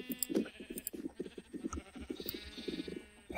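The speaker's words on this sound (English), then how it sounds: "That's a lot of sheep." Many Minecraft sheep bleat over one another in quick, overlapping baas, a busy, fairly loud flock with no talking.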